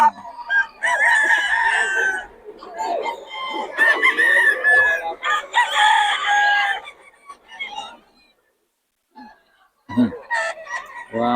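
A crowd of roosters crows loudly and repeatedly at close range while chickens cluck among them, with a short lull near the end and brief talk mixed in.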